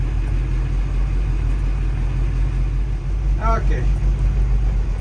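Boat engines idle while warming up before departure, a steady low, loud rumble throughout, with someone briefly speaking over it.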